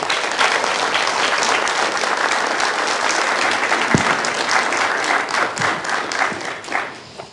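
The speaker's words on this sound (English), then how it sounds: "You all deserve a round of applause" A conference audience gives sustained applause, dense and loud throughout, then thins toward the end with a few scattered claps.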